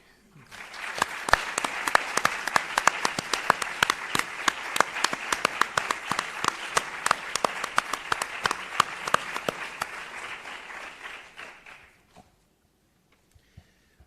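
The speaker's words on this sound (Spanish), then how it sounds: "Y ahora mi aplauso para el equipo del ICE" Conference audience at REDES-INNOVAESTIC 2023 applauding the ICE team: dense, steady clapping from many hands for about eleven seconds, then stopping abruptly into near silence.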